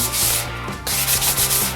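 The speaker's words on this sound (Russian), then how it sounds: "Шлифовать вот так вот туда-назад." A coconut shell rubbed back and forth by hand against sandpaper, close and loud, in repeated rasping strokes with a short pause between passes.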